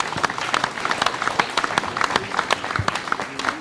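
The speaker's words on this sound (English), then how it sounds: "Can we give them a big round of applause?" An audience at a national forum gives a round of applause, a sparse, uneven scatter of distinct claps, some sharp and close, spread through the whole stretch with a faint murmur underneath.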